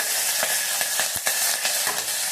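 Curry leaves sizzling in hot oil with urad dal fried until red, cooking for ginger pachadi: a steady bright crackling hiss punctuated by sharp pops, close and loud, with no talk.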